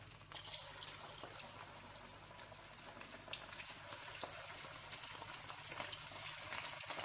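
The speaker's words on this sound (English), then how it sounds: "into the pan for deep frying" Beef strips deep fry in a pan of oil, a faint, steady hiss and crackle of bubbling fat that carries on evenly without voices.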